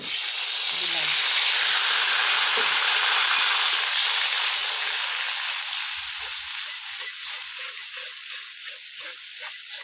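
Shrimp paste fries with gourd peel in a pan, a loud steady hiss and sizzle that slowly eases, with faint stirring scrapes toward the end.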